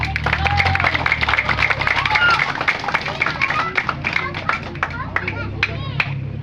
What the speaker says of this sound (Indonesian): Saya minta saudara-saudara semua yang datang tepuk tangan karena kita berada semua di sini